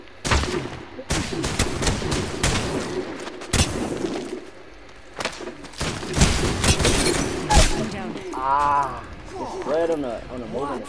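Rapid bursts of gunfire from a shooter video game crackle and boom in repeated volleys, with voices talking over the shots.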